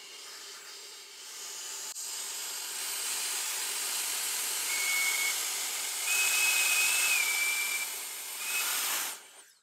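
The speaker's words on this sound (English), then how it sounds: "fit the nozzle to the joint, slowly crank it up" An Air Blaster 5000 blower is fitted to the joint of a glass rig to dry it out, giving a continuous rushing hiss that swells gradually as it is cranked up, with faint whistling tones, then cuts off.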